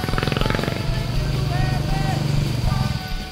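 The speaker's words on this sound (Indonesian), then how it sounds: "Dentuman knalpot, karakter mesin" A Royal Enfield Classic motorcycle's single-cylinder engine and exhaust thump in a steady, close rumble for a few seconds, with a person talking over it.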